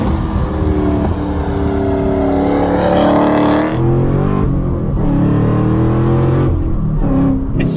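A Camaro ZL1's supercharger whines as the car drives, a loud close engine drone with rising and falling whine tones as it revs and accelerates, continuous with no talk.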